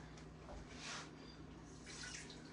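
Water is poured into a bowl for bread dough made with freshly milled grain, a faint, soft splashing trickle that swells briefly twice over a quiet background, with no talk.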